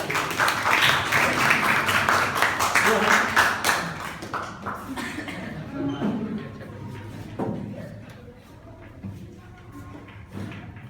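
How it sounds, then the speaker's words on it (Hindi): An audience in a Hindi speaking-skills session bursts into a dense round of clapping that stays loud for several seconds, then thins out and fades into scattered claps and murmurs. "चलिए, जोरदार तालियां हमारे साथ"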